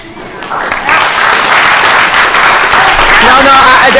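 An audience at a city council meeting bursts into steady, loud applause that swells after a brief start and holds throughout.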